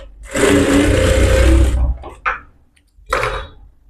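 Sewing machine stitching a blouse seam, a loud steady whirring run of about a second and a half, followed by two short bursts; faint voice in between.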